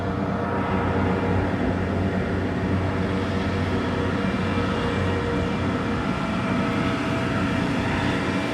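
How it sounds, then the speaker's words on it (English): Continuous heavy rumble of a train passing nearby, a steady loud roar with low mechanical drone throughout, no speech. "Sorry, a train is coming,"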